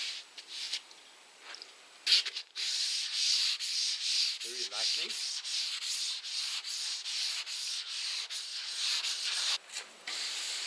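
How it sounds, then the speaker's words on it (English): Steady, light rubbing of wet 1000-grit sandpaper on a repaired, peeling clear coat, continuous and close, with brief pauses and a quiet voice speaking briefly partway through. "And this is 1000 grit and I'm wet sanding it."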